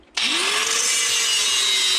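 An angle grinder bites into scrap metal with a sudden start, then holds a loud, steady, high whine alone for about two seconds.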